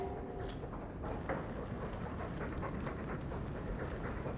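A dog panting in Dragon Age 2, faint steady breathy rhythm running the whole time beneath a low ambient game hum, quiet and fairly close, no talking.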